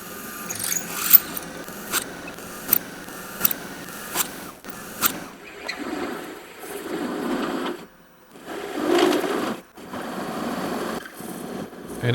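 Drill bit boring a series of holes into aluminum flat bar, a harsh machine whine starting and stopping in short bursts, followed by longer sustained grinding passes through the metal, loud and close with no talking.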